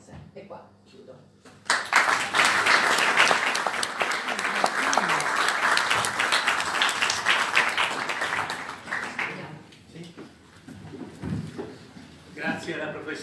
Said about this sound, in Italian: credo che l'applauso abbia significato veramente un incoraggiamento a questa ricerca